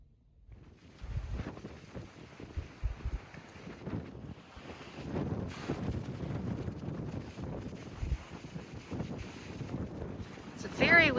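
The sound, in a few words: intense wind outside at campground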